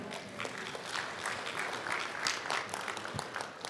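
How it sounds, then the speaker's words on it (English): Conference audience at Rwanda Mining Week applauding the moderator and panel, a dense, fairly loud round of clapping that carries steadily throughout with a little voice underneath. "A round of applause for moderator and panel."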